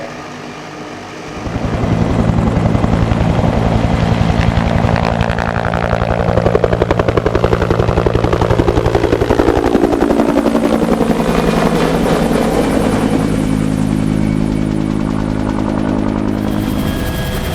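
A helicopter used for aerial fish stocking in remote areas beats loudly and steadily overhead, its rotor thump and engine whine swelling in after a quieter opening and holding close and strong throughout, with no voices.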